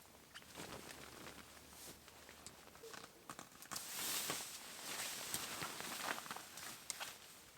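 Rain patters steadily on a tarp over a forest bushcraft camp, a dense field of soft irregular taps with brief louder drips, close and continuous with no voices.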